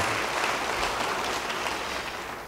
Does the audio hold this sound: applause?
yes